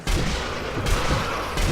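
Loud, dense gunfire from the zombie shooter Zombie Army Trilogy: a continuous close volley of shots with sharp fresh bursts partway through, heard alone.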